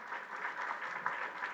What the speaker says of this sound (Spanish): pido un fuerte aplauso para estos profesionales de la salud